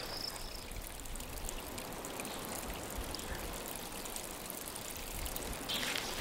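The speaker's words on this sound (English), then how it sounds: "Now what I want to do is divert this water to this little ditch here." Irrigation water running into a small farm ditch, a steady close gurgling flow with soft trickling that holds at an even level throughout, with no voices.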